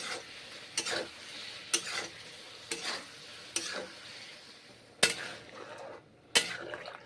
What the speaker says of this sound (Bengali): বড়াগুলো মশলার সঙ্গে মিশে যাবে তাই কষে নিচ্ছি এইভাবে কষে নিচ্ছি